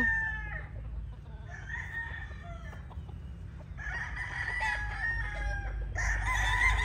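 A grey gamefowl brood stag rooster crows nearby in several repeated bursts, with softer clucks and farmyard noise between calls over a low background hum.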